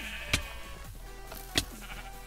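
Short bleats from sheep in the video game Sheep Quest ring out over a soft game backdrop, one near the start and another later, with a sharp click at the very end.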